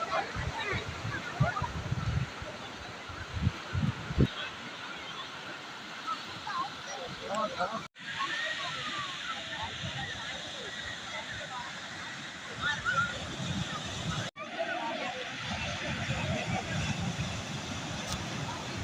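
Sea water washes along the shore at Varkala Papanasam beach, a continuous rush and splash of surf heard up close, with voices talking over it.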